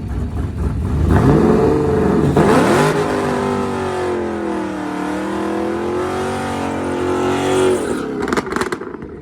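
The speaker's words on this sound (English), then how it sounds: "I really like the deeper, throatier, big motor sound with a cam" A naturally aspirated big-motor car engine with a cam revs up loudly and nearby, climbing in pitch, holding a throaty, lumpy drone, then dropping back to idle with a few sharp blips.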